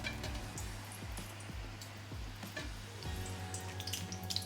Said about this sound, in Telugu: ఇప్పుడు వేడిగా ఉన్న నూనెలో వేసేసుకోండి మంచి క్రిస్పీగా అయ్యేంత వరకు ఫ్రై చేసుకోవడమే